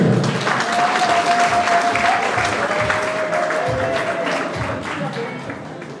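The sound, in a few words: wedding guests applauding and cheering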